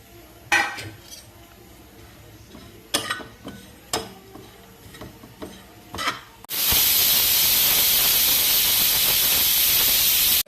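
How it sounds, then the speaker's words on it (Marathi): Grated coconut is dry roasted in a pan for spicy misal: light clinks and scrapes of a utensil against the pan, then a sudden loud, steady hiss that carries on to the end. "सर्वात आधी ना खोबरं भाजून घेते"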